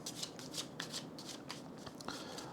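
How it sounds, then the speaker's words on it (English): A deck of playing cards for a tabletop card game is shuffled up close, rapid riffling flutters coming in quick bursts over a faint steady background hiss. "we're going to start by shuffling Temperance's deck along with the Hunter"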